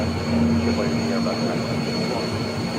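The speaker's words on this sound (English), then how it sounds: "there's a American 737 taxiing out that we're going to see come into the frame here momentarily" An American Airlines Boeing 737 taxiing at Phoenix airport: a steady, moderately distant jet engine roar with a faint whine, continuous throughout with no talking.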